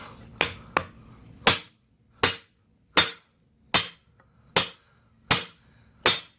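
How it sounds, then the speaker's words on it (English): A 10-pound sledgehammer pounds a Chevy Cruze CV axle in a series of about nine sharp metallic strikes, two quicker taps first and then evenly spaced heavy blows, close and loud. "while I'm doing that, I'm hitting it here."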